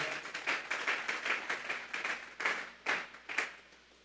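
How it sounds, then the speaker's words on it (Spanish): A church congregation claps together in steady, rhythmic praise, offering applause to God during a sermon; the close, crisp claps run continuously for several seconds with no voices. "Vamos a darle una ofrenda de palmas a Dios en esta hora."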